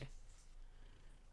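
Soft, steady low purring from a house cat lying close to the microphone, a continuous rumble over a quiet room.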